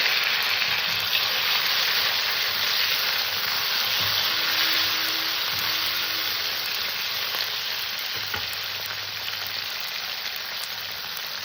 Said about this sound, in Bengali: আলুটা ভাজা হয়ে গেছে এবার এই আলু ভিতরে আমি একটু টমেটো কেটে রেখেছিলাম দিয়ে দিলাম